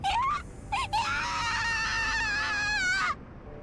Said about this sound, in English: Scream.